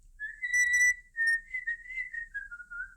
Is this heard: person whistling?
yes